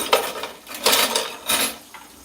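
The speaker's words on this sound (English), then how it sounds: "The dishes are loud over here without that noise canceling mic." Dishes, pots and cutlery clattering in a home sink while being washed, three loud clusters of close clinks and knocks at an uneven pace with a softer rattle between them, no talking.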